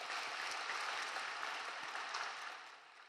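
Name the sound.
church congregation applauding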